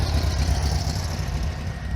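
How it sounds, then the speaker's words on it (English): A flat-four car engine at a Retro Rides gathering rumbles low and steady close by, a continuous throbbing drone with no voices over it. "Listen to that flat 4 engine"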